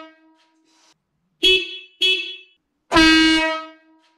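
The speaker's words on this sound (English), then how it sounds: "my air horn is finally installed and it's working." A weak horn note fades out, then two short blasts and one longer blast from a loud, brassy motorcycle air horn, close by in a quiet garage.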